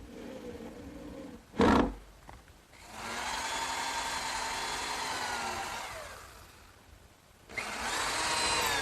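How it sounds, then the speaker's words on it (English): A power drill drives screws through the back of a plywood backsplash into a gardener's workbench counter, with several sustained whirring runs broken by pauses and a brief knock, close and loud. "to attach the backsplash to the counter area, I'm putting 4 screws in through the back"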